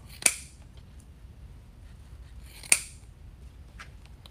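Scissors snip through the ribbon tails of a handmade bow: two crisp, sharp cuts about two and a half seconds apart, close and clear over a quiet room with faint light handling noise between.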